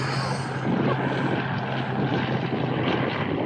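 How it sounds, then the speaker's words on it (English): A helicopter drones overhead outdoors, a continuous low rumble with a faint rhythmic beat that holds steady throughout. "Or like a helicopter in the background."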